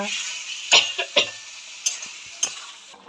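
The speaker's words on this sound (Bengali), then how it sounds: "যে মশলা দিয়ে কষে যাচ্ছি তরকারিটা বন্ধুরা জিরে আদা" Curry being fried with cumin, ginger and chili, a soft sizzle punctuated by several sharp spatula scrapes and clinks against the pan, fairly close.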